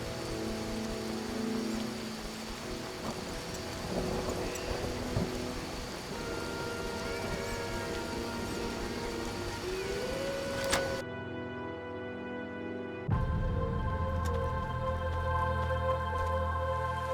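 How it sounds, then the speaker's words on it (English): Steady rain pours in The Witcher video game, a dense continuous hiss under tonal in-game music and ambience, with a sudden shift to a sparser texture partway through. "It rains and it pours."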